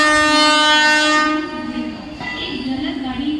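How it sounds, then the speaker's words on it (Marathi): A fast Mumbai local train passes platform number 2, opening with a loud, sustained horn blast that gives way to the rushing roar of the carriages close by. "Fast train is passing."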